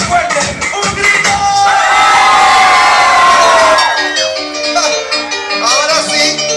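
A crowd at a batucada lets out a loud, sustained collective shout lasting a few seconds, with cheering and whoops around it, then it fades into scattered voices.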